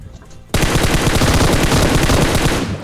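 Gunfire in a battle royale video game as an enemy is knocked down: a dense, rapid automatic burst that erupts suddenly and hammers on loud and close for over two seconds.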